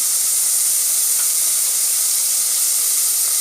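Onions and curry leaves sauté in a hot pan with a steady, loud, bright sizzling hiss that holds constant throughout.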